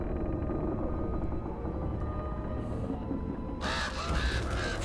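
Several crows caw in the video game Uncharted: Drake's Fortune, harsh calls repeating over a steady ambient game background, growing louder and denser near the end.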